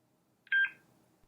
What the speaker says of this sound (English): The unit will beep and display Pump Test Pass, indicating the pump test was successful.